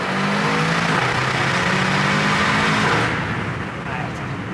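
An Aston Martin DBX707 engine revs hard and loud through gear shifts, a dense close roar that eases slightly near the end, with someone apparently talking over it.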